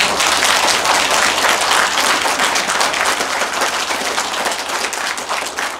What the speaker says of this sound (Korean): 지금 박수가 가장 먼저 나온 데가 어디냐면 저 여성분들이야.